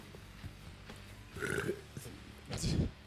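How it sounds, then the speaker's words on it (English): A loud, rough burp erupts during a hot wing eating challenge, followed moments later by another guttural belch, with voices murmuring around it. "That was a nasty burp, too."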